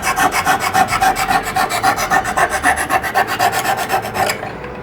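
Rhythmic rasping strokes of a knife edge drawn over a diamond stone in a Lansky guided sharpening system, steady back-and-forth scrapes at an even pace, close and fairly loud, stopping abruptly near the end.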